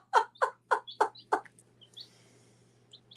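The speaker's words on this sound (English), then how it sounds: "See, we got some new chicky babies." A cluster of baby chicks gives five quick, evenly spaced clucking peeps close by, then a few faint high chirps trailing off into near silence.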